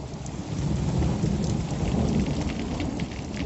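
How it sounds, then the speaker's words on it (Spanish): Heavy rain pours steadily through a thunderstorm, with loud rolling thunder rumbling low beneath the dense hiss of falling water, continuous and close. "ese día llovió y la tormenta apagó las llamas"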